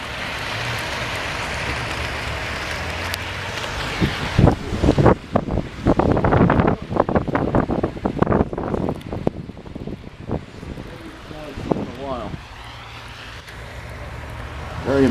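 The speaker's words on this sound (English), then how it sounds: "the snow is tapered off, but it is very windy outside" Strong gusting wind buffets the microphone outdoors on Long Island during a nor'easter snowstorm, a loud roaring rush that swells and fades in gusts with no voices.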